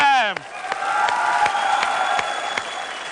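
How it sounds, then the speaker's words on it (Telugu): A studio audience on a Telugu TV dance show claps and cheers at a steady, dense level for about three seconds, with a brief musical sweep at the start and voices mixed in. "please clap"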